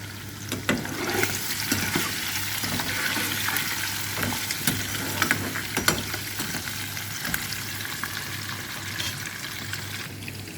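Dried chili and chickpea dal fry in hot oil with a steady, close, continuous sizzle and crackle, no voices over it.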